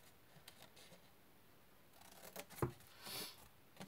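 Scissors snipping flaps off a paper card, a few quiet, close cuts and rustles, with one sharper snip near the end in an otherwise hushed room.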